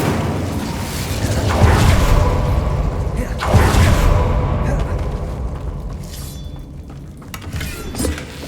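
Incendio fire spell cast in Hogwarts Legacy, two loud whooshing bursts of flame with crackling impact a couple of seconds apart, then a fading roar with scattered debris-like pops.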